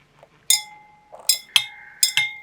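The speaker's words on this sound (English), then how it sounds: "Make sure you use the glass rod to stir." A glass rod stirring in a glass beaker during a chemistry lesson gives sharp, ringing clinks. About five close, bright taps come in uneven bursts, each leaving a short tonal ring over near silence.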